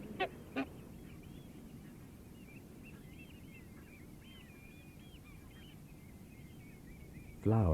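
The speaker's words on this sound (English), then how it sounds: "The barnacle goose, one of the smaller members of the goose family" Barnacle geese resting at a temporary stopover on their way to breed on remote Arctic islands, a flock's faint, distant honking chattering continuously over low background noise, with a couple of louder near calls at the start and a loud honk at the end.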